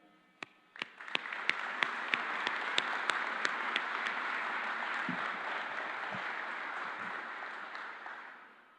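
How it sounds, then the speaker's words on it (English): A few sharp individual claps build quickly into steady, moderately distant audience applause at an outdoor ribbon cutting for a water reclamation and reuse facility, sustained several seconds before tapering off. "applause of well done"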